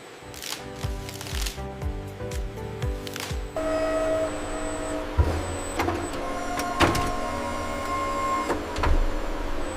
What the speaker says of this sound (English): The loaded pallets are wrapped in protective stretch film to secure them.